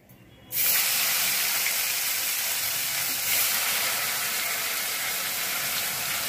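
Onion dropped into hot oil in a pan, a sudden loud sizzle that stays as a dense, steady hiss close by, briefly swelling midway.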